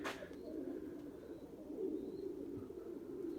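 Erzurum White pigeons coo in a low, steady murmur close by, several birds overlapping continuously with no talk.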